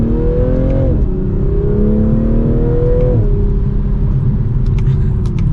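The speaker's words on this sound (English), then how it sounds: "And we'll do one last acceleration for today." A 2023 Toyota GR Supra with its 8-speed gearbox accelerating hard, the engine note climbing loud and close through quick upshifts, each marked by a brief drop in pitch before rising again, with no voices.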